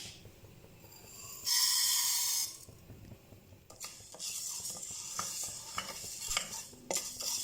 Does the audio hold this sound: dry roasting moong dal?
yes